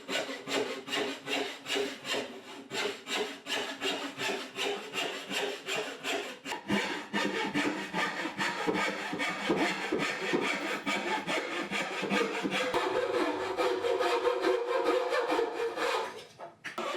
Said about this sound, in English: the curves that we'll be cutting out here with the turning saw